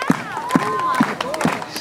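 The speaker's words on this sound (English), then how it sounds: "Keep clapping." An audience claps hands in a steady rhythm at a show at the Polynesian Cultural Center, four evenly spaced claps under an emcee's talk and crowd voices.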